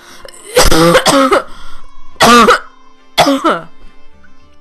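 A person coughs in a fit of several harsh, voiced bursts in three clusters, loud and close, with rough throat-clearing quality between pauses.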